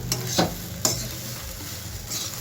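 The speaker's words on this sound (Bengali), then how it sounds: "এই অবধি আমি ডালিয়াটাকে ভাজবো।" Cracked wheat (dalia) being dry-fried and stirred in a pan, soft sizzling with a few sharp scraping strokes of a spatula, close and fairly quiet, no voices.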